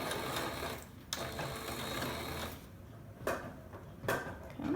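A sewing machine runs steadily while stitching the waistband of reversible shorts, its whirring motor broken by brief pauses and a few sharp clicks, close and clear with no talking.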